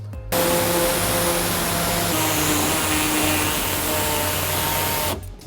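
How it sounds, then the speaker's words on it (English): A pneumatic air saw cuts off a plastic lip on a 2017 Toyota Sienna during a trailer hitch installation, a loud, continuous buzzing hiss running about five seconds before stopping abruptly, with no talk. "we're gonna take our air saw and we're gonna cut off this entire lip"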